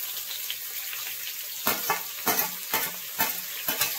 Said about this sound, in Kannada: ಈರುಳ್ಳಿ ಒಂದು ದೊಡ್ಡದು ಹಾಕಿ ಟೇಸ್ಟ್ ಬರ್ತದೆ. ಚೆನ್ನಾಗಿ ಫ್ರೈ ಮಾಡಿ.